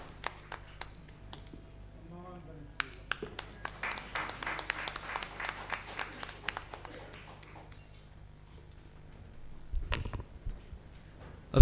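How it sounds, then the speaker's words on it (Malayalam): An audience stands and claps at a leadership conference while a bishop is honoured with a shawl. The claps are scattered and fairly distant, swell into a brief burst, then thin out among murmured voices. "കൈയടിക്കണം."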